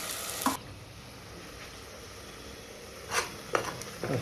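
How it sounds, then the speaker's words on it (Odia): Onions frying in hot oil in a home kitchen, a steady soft sizzle broken by a few louder crackles and stirring scrapes, close and without talk. "ତାପରେ ପିଆଜ ପଡ଼ିକି ତ ଖଡ଼ ଖଡ଼ କରିବ"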